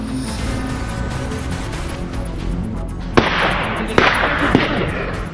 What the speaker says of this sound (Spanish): se muestra un violento enfrentamiento a balazos entre los integrantes del cártel Jalisco Nueva Generación y el cártel de Zicuirán